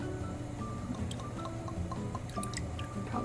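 Fish sauce poured into a pot of soup being made with black pepper and water spinach, a few soft liquid drips and trickles over a steady kitchen background, close and fairly quiet.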